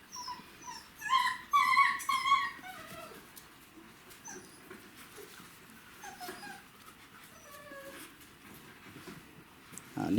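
Six-week-old Czechoslovakian wolfdog puppies whimper and whine in high, wavering cries, loudest early on, then scattered softer whines amid shuffling.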